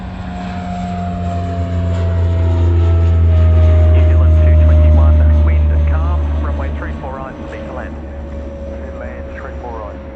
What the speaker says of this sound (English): New Zealand 221 coming in. That's A320 Neo coming in from Christchurch